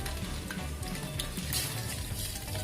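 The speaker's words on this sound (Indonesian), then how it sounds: "Kita goreng di minyak panas ya." Chicken pieces frying in hot oil, a dense continuous crackling sizzle with bright popping bursts, close and steady throughout with no talking.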